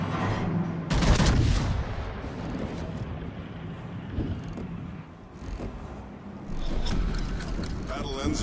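Heavy naval gun salvos from the Tier 10 battleship USS Montana in World of Warships, loud booming blasts with a big burst near the start and another later, over constant wind and sea rumble with talk in between.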